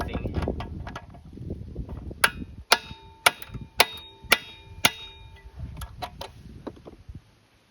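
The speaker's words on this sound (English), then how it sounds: "that's the valve that we're hammering there." Metal hammer blows strike a stuck valve on a Briggs & Stratton flathead engine from a Craftsman push mower, about eight sharp ringing clangs at a steady rhythm, close and loud over faint background noise.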